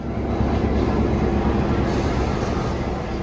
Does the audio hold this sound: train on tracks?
yes